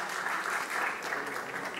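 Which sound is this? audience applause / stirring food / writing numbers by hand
audience applause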